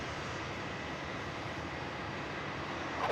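A 33-year-old Saab 340B turboprop taking off at Melbourne Airport, a steady broadband engine roar held at one level throughout, fairly distant, with no talk over it.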